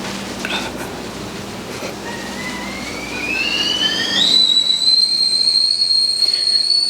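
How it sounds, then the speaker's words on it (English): A tea kettle on a stove burner set to high whistles, a steady shrill tone that rises in pitch and grows louder about halfway through, then holds as a clear, sustained whistle over faint background noise. "tea kettle's whistling"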